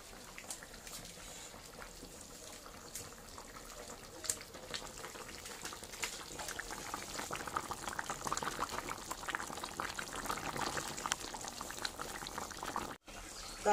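Rohu fish curry with cauliflower simmering in a pot, a steady soft bubbling and gentle liquid burble that carries on evenly throughout with no talking.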